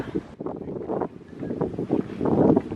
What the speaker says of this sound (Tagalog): Mahangin lang siya.